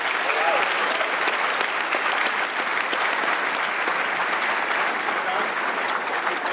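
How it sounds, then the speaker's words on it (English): A live podcast audience at a tech conference gives loud, dense applause, a continuous roar of many hands clapping close by for the whole stretch. "A bigger round of applause, please."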